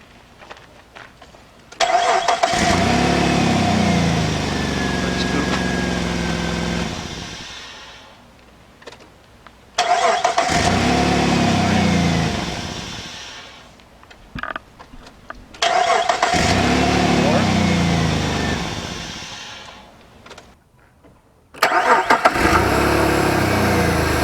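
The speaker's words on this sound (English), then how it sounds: "to show you that you can easily start the car a couple of times without an issue" A car engine is jump-started with a 1byone jump starter three times in a row, each start cranking and catching into a loud idle that runs several seconds, then shuts off to quiet before the next.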